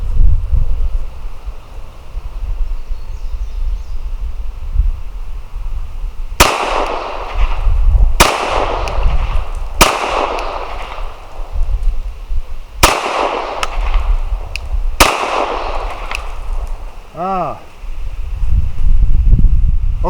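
Glock 19 pistol fired at an outdoor range: five sharp, loud shots spaced roughly two to three seconds apart, each cracking and ringing out briefly over wind noise.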